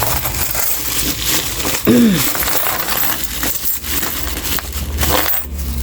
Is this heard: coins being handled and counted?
yes